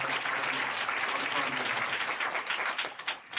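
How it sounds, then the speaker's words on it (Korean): Church congregation at a Friday night worship service breaks into loud, sustained applause, dense clapping filling the room steadily before thinning slightly toward the end. "우리 할렐루야 크게 박수를 올려드리겠습니다"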